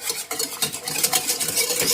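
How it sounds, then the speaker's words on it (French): A utensil stirs beaten egg into sauce in a pan over heat, giving quick, close scraping and sloshing strokes in an irregular rhythm, with a faint sizzle underneath. "Mélangez bien l'œuf surtout."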